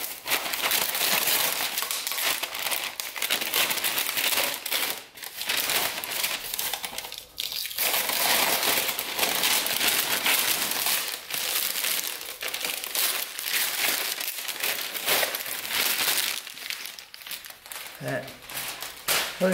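Masking paper is peeled and torn away from a freshly painted LQ4 V8 engine block in a garage, giving continuous close crinkling and ripping with brief pauses, while someone talks through it.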